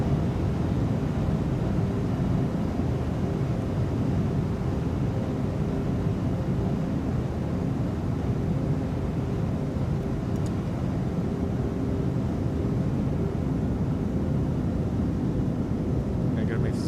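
A Cessna 310R twin engine drones steadily on landing approach in Microsoft Flight Simulator, a loud continuous low hum with no break, while a voice talks over it.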